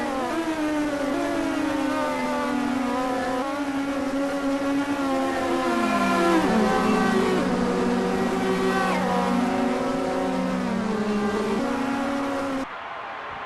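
Race cars on a track, a BMW against a Porsche at the Spanish Grand Prix, give a loud sustained engine whine that rises and falls in pitch as they run down the main straight, continuous and close with no talk.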